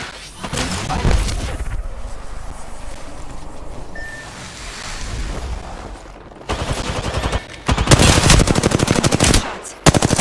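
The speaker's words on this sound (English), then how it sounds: "Shots fired at me." Gunfire from the video game Apex Legends: rapid automatic bursts, a quieter stretch, then dense, loud repeated volleys near the end.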